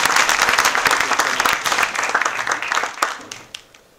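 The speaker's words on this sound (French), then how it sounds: "Des applaudissements pour Tania, s'il vous plaît." A lecture audience breaks into loud, dense applause that holds steady for a few seconds, then thins out into scattered individual claps before fading.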